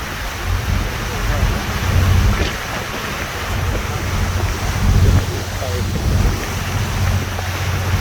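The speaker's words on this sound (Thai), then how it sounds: "วิลมแรงมากเลย" Strong wind buffets the microphone on a ferry ride across the water toward the Statue of Liberty, a steady low roar with gusty swells over engine and wave noise throughout.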